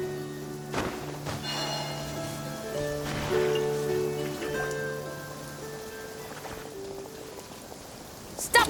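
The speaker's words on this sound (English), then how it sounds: "listening to the rain cleanse the earth makes me feel safe" Steady rain falls in the Genshin Impact video game, a constant soft patter and hiss spread evenly throughout, with sustained musical tones playing over it.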